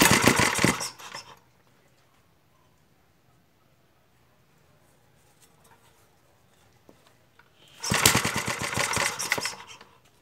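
A Montgomery small engine starting, a loud rattling burst of rapid chugging at the start, a long near-silent gap, then another sustained run of sharp rhythmic firing near the end, close by.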